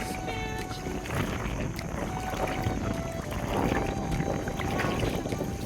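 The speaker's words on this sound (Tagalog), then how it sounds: "Malakas ang hangin guys." Strong sea wind buffets the microphone with a continuous rushing roar, rising in gusts, with faint tones and voices underneath.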